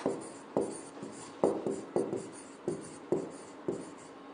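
A teacher writes a definition by hand, with quick scratchy strokes arriving in short repeated bursts at a steady pace, close and fairly quiet, with no talk over them.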